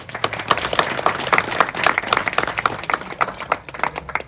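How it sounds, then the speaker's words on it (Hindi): Audience clapping at a religious discourse on household life, a steady round of many hands, moderately loud and rhythmic, with no talk over it. "ताली बजाई, बढ़िया किया"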